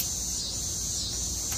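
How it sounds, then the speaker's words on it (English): Katydids or cicadas chirp outdoors beside a backyard smoker, forming a dense, steady high-pitched buzz that fills the moment without a break. "Man, I just love that sound. Katydids, cicadas, whatever you wanna call them."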